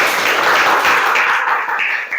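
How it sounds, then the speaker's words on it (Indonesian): A crowd applauds a speaker at an Islamic religious education teacher-training session, a dense, steady wash of many hands clapping together that continues throughout and eases slightly toward the end. "Oke, tepuk tangan untuk Mas Kuat."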